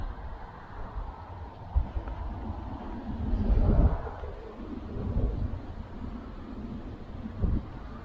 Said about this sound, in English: Also, it's very windy.